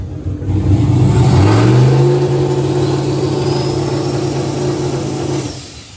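A car engine fitted with a cheap turbo revs up under boost, rising quickly into a loud, close roar, then holds a steady high drone for several seconds before dropping away.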